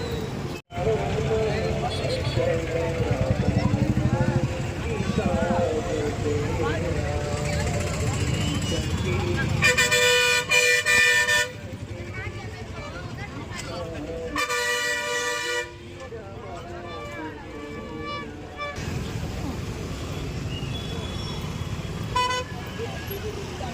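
Buses and other traffic near a dargah during an urs festival, with engine rumble and several long horn blasts, some near and loud, under continuous crowd noise and voices talking.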